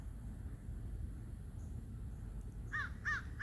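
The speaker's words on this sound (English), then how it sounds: "There's a crow flying over." A crow caws three times in quick succession as it flies overhead outdoors, the calls fairly clear above a low, steady background rumble.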